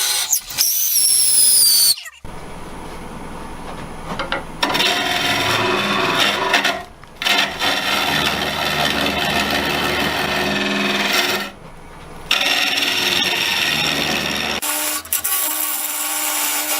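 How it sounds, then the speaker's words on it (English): Sandpaper rasps steadily against a spinning wood-turned piece on a lathe, a loud continuous abrasive rubbing in several long passes separated by brief pauses, with a whirring motor underneath. "We're going to resand it"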